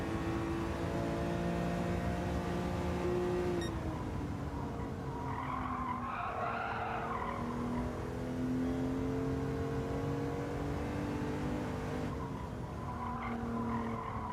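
A race car in Gran Turismo 7 during an online lobby race, steady high engine drone shifting pitch through gear changes, with a burst of tire squeal and skidding midway, loud and continuous.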